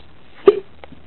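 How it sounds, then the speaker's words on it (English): A single combined burp and hiccup from a man at home, one short abrupt gulping burst followed by a faint second catch, close and fairly quiet in an otherwise still room. "Had to burp and hiccup at the same time."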